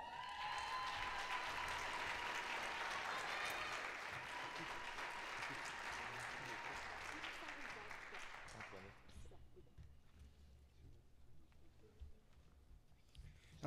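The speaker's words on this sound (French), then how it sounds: "Applaudissons chaleureusement les nouveaux diplômés des baccalauréats de l'École des sciences de la gestion." Sustained audience applause for new graduates at a university management school graduation ceremony, a dense steady patter of clapping that fades out after several seconds into quiet room noise.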